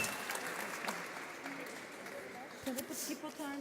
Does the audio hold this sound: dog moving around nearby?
no